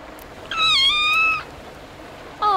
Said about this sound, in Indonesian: Oh, look, it's a kitten.